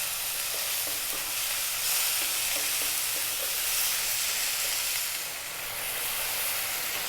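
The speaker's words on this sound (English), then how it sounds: "And what we want is to cook those tomatoes down and maybe get a little bit of liquid out of them." Tomatoes cook down in a pan over medium heat, giving a steady close sizzle and hiss with occasional scraping from stirring, and no talk.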